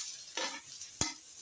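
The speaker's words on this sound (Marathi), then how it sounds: "कांदा आता छान परतून घ्यायचा, तळून नाही घ्यायचा." Onion sizzles softly in a little oil on an iron pan, a quiet steady frying hiss broken by two sharp spatula scrapes against the metal, close and without talk.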